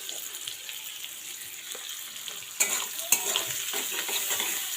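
Onion and dal spice mix sizzle in a pan, a steady soft frying hiss with scraping stirs and a couple of sharp clinks partway through, close by and with no talking.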